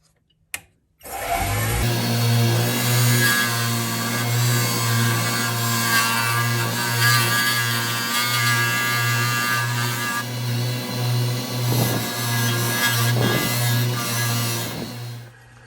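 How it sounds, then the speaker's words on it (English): A skew chisel cuts a segmented cigar pen blank spinning on a lathe: a steady humming motor drone with a continuous scraping wood cut over it, close and loud, starting after a brief click, with no talking. "I'm just going to take a skew and then just slightly divot this below this point right here"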